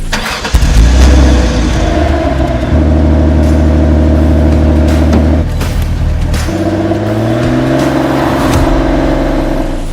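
A Porsche 911 Carrera RS 3.8 engine in the racing game Porsche Unleashed starts with a loud burst, then holds a deep, steady idle before revving up in rising pitch, loud and close throughout.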